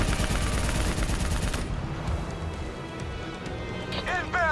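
Dense rapid gunfire from Call of Duty Black Ops 3 rattles loudly in a sustained burst, then drops to a quieter mix of distant shots and game effects.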